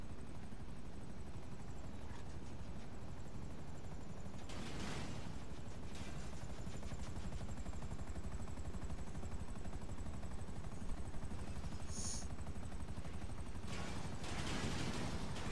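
A helicopter in the video game GTA Online, its steady dense rotor thrum and turbine drone running without a break, with bursts of gunfire-like noise now and then and no talk.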